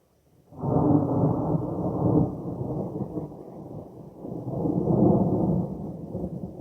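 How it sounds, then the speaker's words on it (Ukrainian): A long, deep rumble of thunder rolls in under clouding skies before a storm, swelling twice, low and heavy, lasting several seconds with no voices. "Почало гриміть, небо затяглося хмарами."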